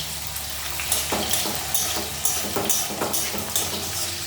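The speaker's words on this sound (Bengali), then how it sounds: "এটা একটু ভালো করে ভেজে নিতে হবে আলুটা আগে।" Potato pieces frying in oil in a pan, a steady sizzle with repeated soft stirring scrapes and clinks at roughly half-second intervals, close and moderately loud, no voices.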